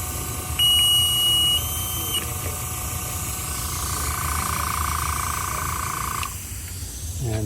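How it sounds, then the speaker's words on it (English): Rotation alarm on equipment fitted with an air pressure switch sounds a steady high electronic beep-tone for about two seconds, then a continuous alarm tone holds until air pressure is cut off, over constant background hiss. "So I'll let it go into alarm and then shut off the air pressure."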